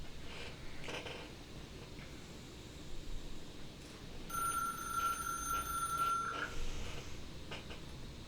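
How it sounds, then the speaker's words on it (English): A telephone rings in The Ratline detective game with one sustained electronic ring of about two seconds. It is fairly quiet against low background noise, and a few soft knocks come before it. "Ooh, we get another spooky phone call"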